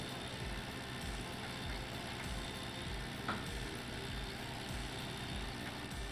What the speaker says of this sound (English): why do we need another tractor when we have this beastie